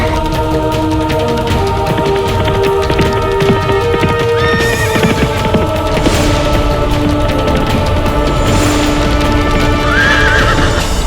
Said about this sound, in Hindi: अरे बाबूजीराज प्रताप का घोड़ा भिदक रहा है।